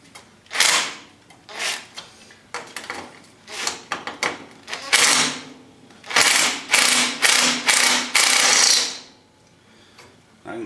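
A ratchet works a bolt loose on the steering of a 1984–85 Wheel Horse, giving bursts of sharp clicking in repeated strokes, close and loud with short pauses between.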